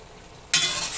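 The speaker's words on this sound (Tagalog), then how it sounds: "hantay lang tayo habang kumukulo yan" After a brief quiet moment, a sudden bright hiss of eggs cooking in a pan for tiger skin eggs bursts in and continues steadily.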